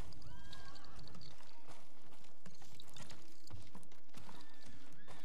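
Horse hooves clip-clopping with an occasional whinny in the video game Ghost of Tsushima, set against a dense outdoor ambience of rustling and background noise.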